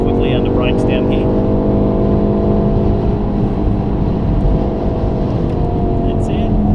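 A VW Golf R lapping a track-day circuit at Wakefield drones loudly and steadily from inside the cabin, engine note sustained throughout with only slight variation, while a voice talks over it.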